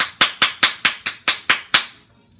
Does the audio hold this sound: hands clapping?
yes